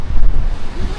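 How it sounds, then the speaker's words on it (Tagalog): Strong wind buffets the microphone at a hillside resort, a loud, gusty low roar with rushing texture throughout the short moment. "Malakas ng hangin dito eh."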